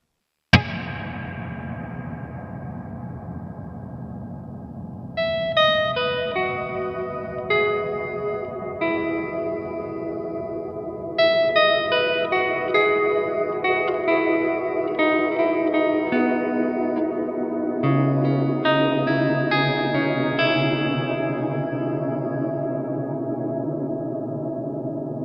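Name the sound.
guitar with Line 6 HX One reverb at infinite decay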